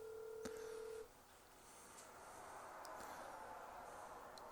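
A phone placing a call sounds a single keypad dialing beep, then a steady tone that stops after about a second, followed by a faint continuous hiss with scattered soft clicks.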